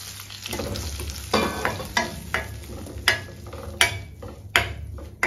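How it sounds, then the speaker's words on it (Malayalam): Spice powders for a spicy Kerala-style sardine curry toast in a hot pan off the heat, with a soft steady sizzle broken by repeated sharp scrapes and taps of a spoon against the pan. "നമ്മുടെ പാത്രത്തിന് ചൂടുണ്ട് ആ ചൂടിൽ നമ്മുടെ പൊടികൾ മൂത്ത് കിട്ടിയാൽ മതി"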